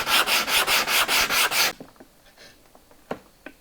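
A sharp chisel pares wood in a run of about eight rhythmic, close scraping strokes. Then it goes quiet, with a few light taps and knocks of handling on a woodworking guide rail lock.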